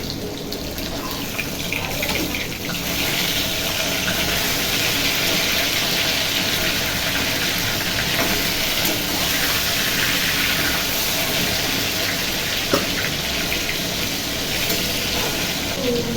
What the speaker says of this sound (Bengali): এদিকে তো মাছগুলো ভাজা হচ্ছে